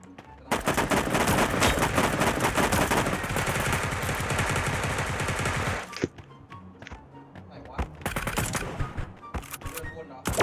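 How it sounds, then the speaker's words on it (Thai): Gunfire in the shooter game Sausage Man: a long dense stream of rapid automatic shots, then scattered single and short bursts after a brief pause, loud and close. "มีคนยิง มีคนยิง"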